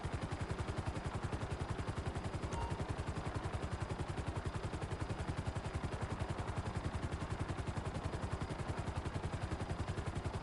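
A GTA Online helicopter keeps up a steady, even rotor thump for the whole stretch, droning and unbroken at moderate volume with no voices over it.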